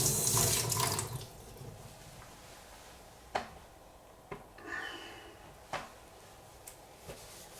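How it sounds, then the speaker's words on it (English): A sharpening stone for a straight razor being rinsed under a running tap, water hissing at first, then quieter handling with a few distinct knocks and clacks of the stone against the sink. "Let's just take that stone off and give it a bit of a wash."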